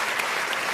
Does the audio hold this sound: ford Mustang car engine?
no